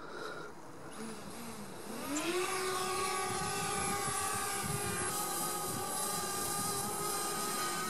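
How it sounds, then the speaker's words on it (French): A DJI Spark drone spins up and takes off, its buzzing rotor whine rising in pitch and then holding a steady, close, loud drone as it hovers and flies. "On fait décoller le drone."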